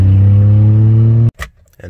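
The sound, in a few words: straight-piped van engine startup and revving, sounds like diesel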